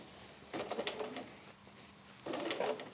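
A sewing machine stitches across a quilt in two short runs of quick mechanical whirring, each about a second long, separated by a brief pause and heard fairly close and quiet.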